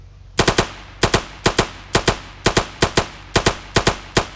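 Automatic gunfire in the Roblox game Blackhawk Rescue Mission: loud, sharp shots fired in quick bursts of two or three, repeating steadily with nobody speaking over them.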